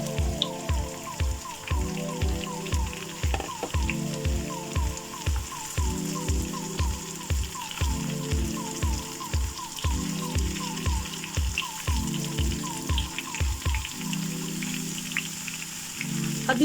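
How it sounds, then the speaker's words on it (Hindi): Potatoes and pointed gourd (parwal) frying in hot oil, a steady crackling sizzle with rhythmic pulsing as the pan is stirred, close and continuous, with no talk. "अब इन दोनों को फ्राई करना है थोड़ी देर तेल में"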